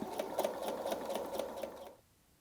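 A sewing machine runs for about two seconds, stitching elastic into a seam line on fabric, a close steady rapid whirring that stops abruptly.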